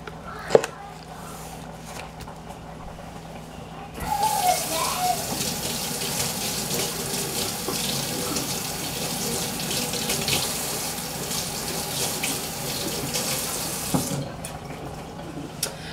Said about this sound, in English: I know it probably seems weird that I'm washing my hands and I have on gloves